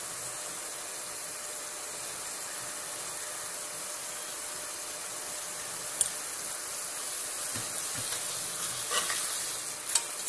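Masala sautés in a pot for mutton biryani, a faint, even hiss and sizzle running throughout with a couple of brief stirring knocks.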